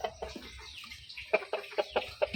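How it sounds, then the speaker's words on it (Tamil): A flock of domestic chickens clucks and chatters in a backyard pen at a short distance, giving repeated short clucks over a low, steady background. "நெக்ஸ்ட்டு ஃபுல்லாக கோழிகள்."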